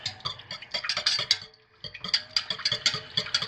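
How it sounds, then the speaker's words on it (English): Hand stirring soap batter for an Advent candle-inspired soap: rapid, close scraping and clinking of a utensil against a container in an irregular rhythm, with a brief pause midway. "let's go ahead and hand stir this in"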